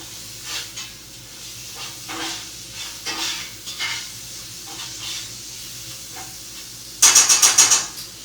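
Minced garlic sizzles in a pan with butternut squash and sweet potato hash, a steady low frying hiss with occasional stirring scrapes, then a short louder burst of crackling near the end.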